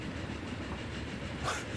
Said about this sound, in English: So we've got this brand new train, and it can only do 30 mile an hour.